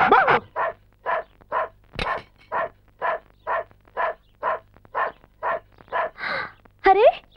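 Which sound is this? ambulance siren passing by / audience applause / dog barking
dog barking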